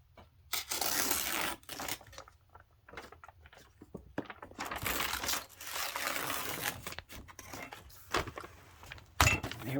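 Paper is torn off a junk journal page in long crackling rips and crinkles, close and fairly quiet, broken by short pauses and a few sharp handling knocks.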